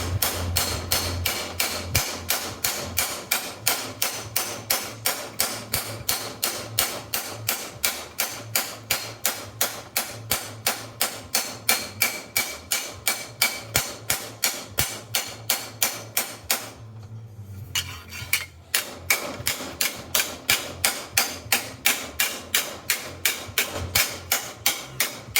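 A hammer beats sheet metal on the flat side of an anvil to stretch it for a floor repair, striking in a fast, steady run of sharp metallic blows with one brief pause, loud and close, with no talk.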